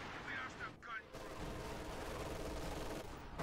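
MG42 machine gun firing in Company of Heroes 2, a steady dense rattle of automatic fire amid ongoing battle noise, with voices briefly audible early on.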